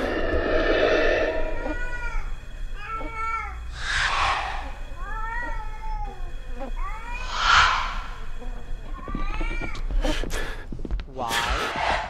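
A cat meows repeatedly in the video game Erie, a string of drawn-out, wavering cries of varying pitch spread across the stretch, fairly close over a low background hum, ending in a few sharper yowls.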